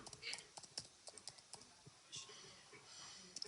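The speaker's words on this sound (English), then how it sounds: "I feel like as though you can hear the keyboard typing as well" Computer keyboard typing at close range: irregular bursts of soft key clicks and taps with short pauses, quiet overall, with a faint voice in places.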